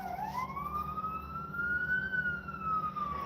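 Emergency vehicle sirens sound outside as one sustained wail that rises and slowly falls, steady and somewhat distant, with no talking over it.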